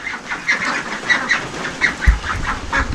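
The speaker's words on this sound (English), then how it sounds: "Hello, ducks!" Ducks quacking and honking at a country flower garden, a run of repeated calls from a small group at close to moderate range, with a brief thump partway through.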